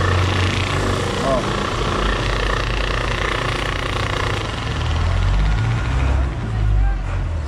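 A direct-drive air compressor runs continuously with a dense, steady mechanical drone and buzz, loud and close, holding nearly constant throughout.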